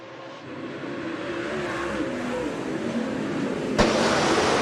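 Late model race cars accelerate together on a restart at Rapid Speedway, a loud steady engine roar building as the pack rises in volume, with a sharp crack near the end.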